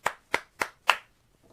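Four sharp hand claps in an even rhythm, close and clear, each decaying quickly into silence with no voice.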